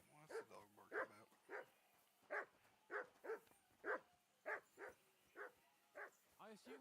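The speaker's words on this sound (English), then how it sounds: "I assume you can hear that damn dog of yours barking." A dog named Mutt barks at a woodland camp in Kingdom Come Deliverance II: a steady run of about a dozen sharp, evenly spaced barks, moderately near but not loud, with some whimpering yips among them.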